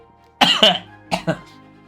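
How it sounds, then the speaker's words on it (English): Two short pairs of harsh, breathy coughs, close and fairly loud, with a brief gap between the pairs. "I'm coughing, I'm dying."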